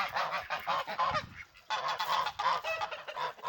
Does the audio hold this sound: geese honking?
yes